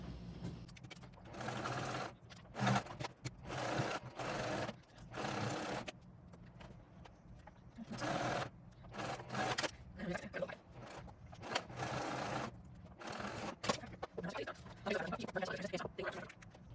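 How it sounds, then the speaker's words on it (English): A sewing machine stitches a backpack panel in repeated loud whirring runs separated by short pauses, with a voice talking between and over the bursts. "I'm going to sew down the side, all the way across, back up the side, and then I'm going to come down the middle."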